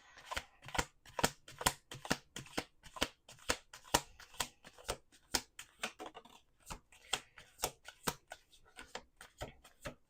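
Tarot cards being shuffled by hand, a steady run of crisp, quiet riffling snaps repeating close up, with no talking.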